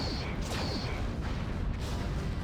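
A dense, roaring crash of noise with whooshing sweeps and mechanical rumble, loud and continuous: a spaceship exploding in a Star Trek starship battle video game.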